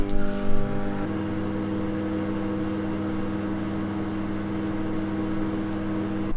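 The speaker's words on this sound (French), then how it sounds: "Je vais mettre de l'eau à chauffer au micro-ondes et on va voir ce qui se passe." A microwave oven heating water runs with a steady, even mechanical hum after a brief start-up noise, constant and fairly close, with no talk.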